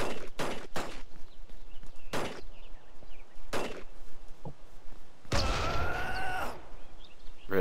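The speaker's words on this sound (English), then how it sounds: "Stop shooting me!" Gunfire from a multiplayer shooter game bursts out in several sharp shots, followed by a longer dense volley that rings out loudly near the end, with bits of player chatter around it.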